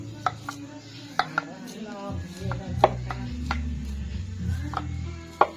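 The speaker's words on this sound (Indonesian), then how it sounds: "Umbi gadung yang dibersihkan dan diiris tipis-tipis." Cleaned gadung yam tubers are sliced thin with a knife on a board: a dozen or so crisp, sharp chops in an uneven rhythm, close and distinct over a low background hum.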